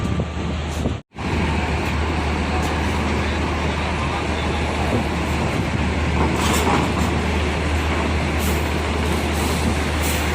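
A large tourist bus rumbles past up close during ferry loading, its engine loud and steady over continuous road noise, with a brief drop near the start.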